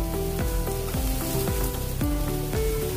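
Onions, carrot and capsicum sizzle steadily in a hot pan for veg Manchurian, a dense continuous frying hiss with occasional stirring scrapes, close and loud with no voices.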